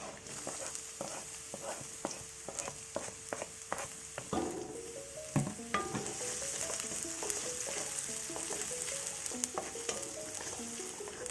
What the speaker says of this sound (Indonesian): Berikut kita tumis bawang putih terlebih dahulu.